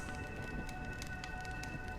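Soft, steady rain falls in Honkai Star Rail, a faint continuous patter with scattered drops ticking on surfaces over a low ambient hum.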